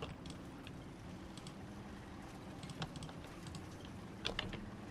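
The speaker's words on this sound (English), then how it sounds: "Sticky bloody mouse keys there." Computer mouse keys click in scattered light taps, faint and close, over a low steady hum.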